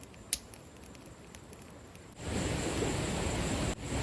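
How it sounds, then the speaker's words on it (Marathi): Heavy rain starts pouring at a night campsite, an abrupt shift from quiet outdoor ambience with a sharp tap to a dense, steady hiss of rainfall that holds, then briefly dips. "एवढा पाऊस पडतोय"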